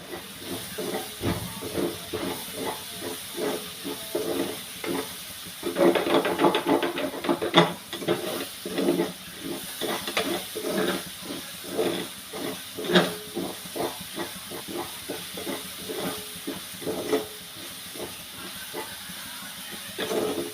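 Ginger and garlic sizzling in a hot pan for a prawn roast: a steady, fairly soft frying hiss with scattered crackles and pops, louder around the middle, with no talk.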